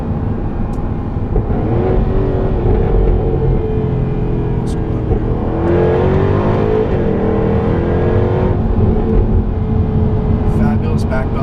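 A 2016 Jaguar F-Type R AWD in dynamic mode with its sport exhaust open, the engine rising and falling in loud, sustained pulls, heard close up with someone talking over it.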